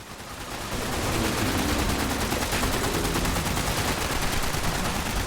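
Turrets in the video game Fallout 76 fire rapid automatic bursts, a dense sustained rattle of gunfire building in the first second and then holding loud and steady to the end.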